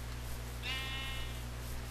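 A single sheep bleats in Minecraft, one short wavering call over a steady low background hum.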